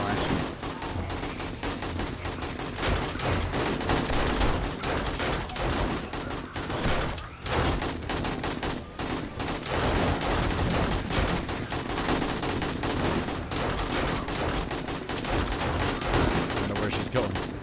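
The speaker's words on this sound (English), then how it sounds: "Good little pistol action." Rapid pistol gunfire in the zombie survival video game 7 Days to Die during a nighttime horde, dense continuous shots over a busy, loud game soundscape.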